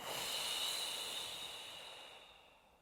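A slow exhale during a pregnancy breathing exercise, a soft steady airy hiss of breath near the microphone that gradually fades over about three seconds, with no talking.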